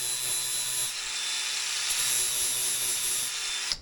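Steady power grinder whine on metal parts for an offroad trailer lift kit, loud and continuous with a brief dip near the end, no talking.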